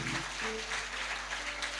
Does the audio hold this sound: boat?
no